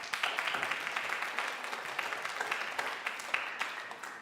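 A church congregation claps together for a few seconds in a dense, fairly even burst of many hands, moderately loud and sustained.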